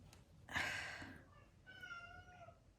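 An indoor cat gives a loud, close, drawn-out meow followed by a shorter, softer second meow.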